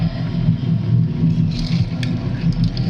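A diesel excavator engine runs steadily up close with a deep, continuous low rumble while the machine pokes and shifts a burning pile of dust and coals, with faint crackling above it.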